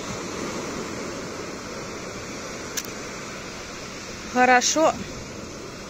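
Autumn sea waves wash steadily onto a beach in Spain, a soft, constant surf rush heard from nearby, with a brief spoken word near the end.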